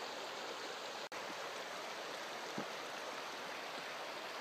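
Evolution Creek on the John Muir Trail rushes past close by, a steady hissing flow of water with a brief dropout and a faint knock partway through.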